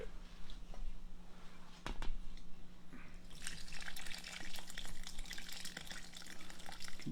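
Liquid is poured into a cooking pot in a home kitchen, a steady gushing stream that swells louder and splashier partway through and runs continuously, with no talking.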